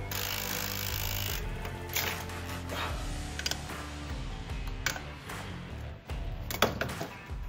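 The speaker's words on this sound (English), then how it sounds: "Let's get all these bolts out." Bolts being loosened on the fuel rail of a 2013 Lexus LS 460 AWD with about 200k miles, a close, steady run of metallic ratcheting and tool clicks with a few sharper knocks, and no talking.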